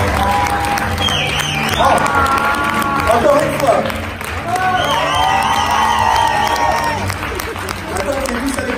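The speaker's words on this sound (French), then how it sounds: "c'est un applaudissement." Audience applause and cheering at a Swiss Voice Tour singing competition semi-final, a dense wash of clapping with whoops, under a host speaking French over it.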